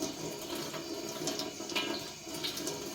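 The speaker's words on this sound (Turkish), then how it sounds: "O yüzden şöyle delikli bölümlere su tutuyoruz." Running water poured over çıntar mushrooms held in a perforated strainer, a steady close splashing rush that continues without a break.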